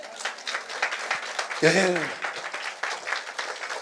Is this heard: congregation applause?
yes